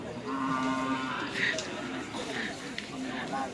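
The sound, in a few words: Madura racing cattle mooing at karapan sapi race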